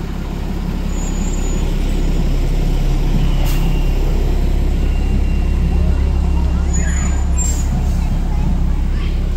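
Long Ridge Stamford fire engine 73 rolls by in a fire department anniversary parade, its engine a loud, continuous low rumble. Crowd noise and faint chatter sit in the background, with a few brief high squeaks.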